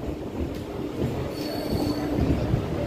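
MEMU passenger train travelling on the Vijayawada to Bhadrachalam Road line, a fairly quiet continuous wheel-on-rail rumble with thin high squeals of wheels along the track.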